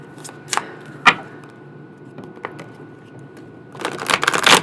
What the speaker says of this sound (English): Just shuffling, man. These little discs.